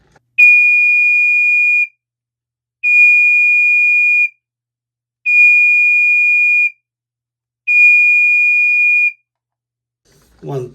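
Chloride Pyrotector 3077ARF5 smoke alarm piezo sounding during a test: four loud, clear, steady high-pitched beeps of about one and a half seconds each, evenly spaced with silent gaps, followed by a brief voice at the end.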